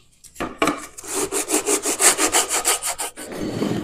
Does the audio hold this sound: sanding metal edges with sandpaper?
yes